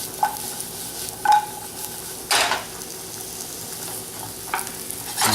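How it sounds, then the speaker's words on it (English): Shrimp and cremini mushrooms sauté in a hot pan for a crab and shrimp Alfredo, a steady close sizzle broken by several sharp scrapes and clinks of a utensil stirring against the pan. "we're going to saute these until they just start to release some juice"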